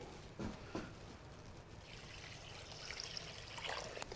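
A soy sauce and brown sugar mixture pours into a Ninja Foodi Possible slow cooker, a soft continuous trickle and splash under a steady low background hiss, with a couple of faint knocks early on.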